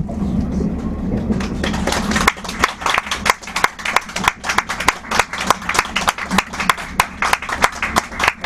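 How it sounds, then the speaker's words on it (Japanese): Aboard the Resort Minori, a KiHa 40 series diesel train on its last run, a low engine rumble fades after two seconds, giving way to passengers' scattered, uneven clapping with sharp individual claps ringing out. "皆様から温かい拍手をいただけないでしょうか"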